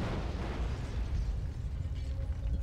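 Explosions in the stealth video game Hitman Absolution, set in a district prison, heard as a dense, continuous low rumble with scattered pops and mechanical clatter, loud and steady throughout with no talk.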